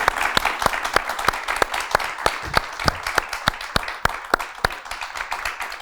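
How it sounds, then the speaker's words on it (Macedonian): Studio audience applauding a guest on a New Year's television show, with steady clapping and sharp individual claps sounding throughout. "Аплауз за Ана!"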